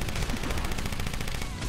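Rapid weapons fire in the motorcycle combat game Road Redemption, a dense rattle of repeated gunshots that runs without a break through the whole moment, loud and close, with no talk.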